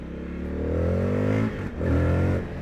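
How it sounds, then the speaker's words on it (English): A 2023 Triumph FTR 1200 S motorcycle on its stock exhaust revs up twice, the engine note rising loud and close, with a dip between the pulls where a pop could sit. "there's a pop on the stock exhaust"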